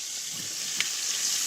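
Short ribs browning in a hot pan give a steady close hiss of sizzling fat with a faint tap partway through.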